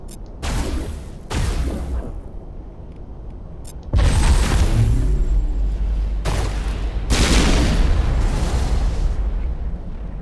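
Rifle shots from squadmates firing sniper rifles in the video game Mass Effect, heard as several sharp cracks with reverberant tails, the later bursts louder and more sustained amid ongoing combat noise.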